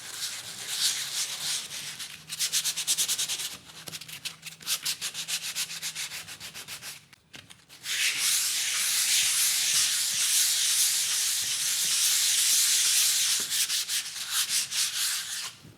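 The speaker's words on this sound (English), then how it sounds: "We just do that with a bit of sandpaper," Sandpaper rubbed by hand over painted plasterboard around a small hole, a steady rasping scrape in bursts for about seven seconds, a short pause, then a louder continuous stretch of sanding, close and with no talking.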